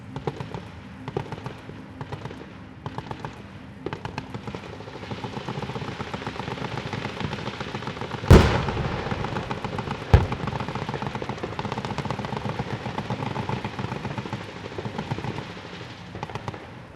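Heavy 12.7mm and general purpose 7.62mm machine guns fire together from Malaysian infantry fighting vehicles during a live-fire exercise. The result is a steady distant crackle of rapid bursts, with one sharp, louder report near the middle.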